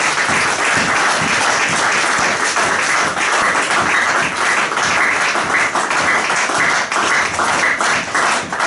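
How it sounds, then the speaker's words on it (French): A church congregation applauding loudly during a service, with dense, continuous clapping from many hands that fills the room throughout and does not let up. "Acclamons très très très très fort le Seigneur."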